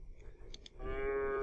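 A cartoon cow moo played as a sound effect in a beginner coding program, preceded by a few soft mouse clicks, then a short, clear lowing tone that holds to the end.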